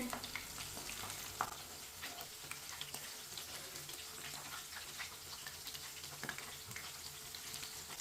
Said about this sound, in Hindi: ये वाली साइड से भी 2 मिनट के लिए फ्राई होने देते हैं।